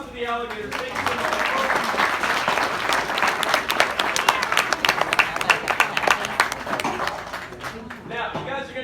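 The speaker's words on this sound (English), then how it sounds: "big round of applause for the alligators" A crowd's round of applause at an alligator show on a South Florida alligator farm in the Everglades, many hands clapping steadily with some sharper near claps, voices heard at the start and end.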